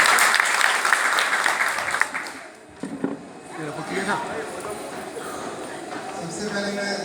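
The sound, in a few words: audience applause at a school award ceremony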